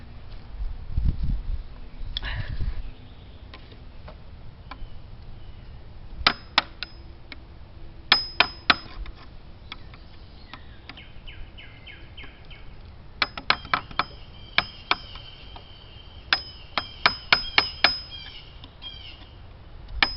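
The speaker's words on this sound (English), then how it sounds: "trying to get washers into holes that no longer fit them" Metal washers clink sharply while being fitted onto bolts during final assembly of a wooden swing set, scattered bright clinks and taps in clusters, close, with quiet handling noise between.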